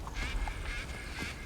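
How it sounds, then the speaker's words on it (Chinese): Eerie bird calls in a cold mountain forest: a few hoarse, quacking cries over a steady rushing background, faint and brief. "这里的鸟叫都很吓人。"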